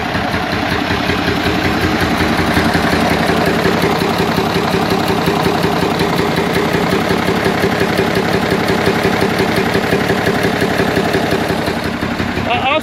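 An old FNM truck with its original engine idles loudly and close by in a steady, rough, throbbing rumble that continues without a break for the whole stretch.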